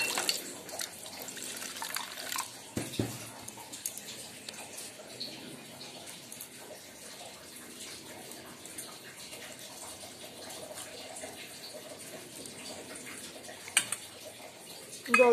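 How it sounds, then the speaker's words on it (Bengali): Water is poured into a steel bowl of ground mustard paste with green chilli, a soft, quiet trickle and splash in a kitchen, with a few faint knocks and clinks. "সামান্য একটু জল দিয়ে"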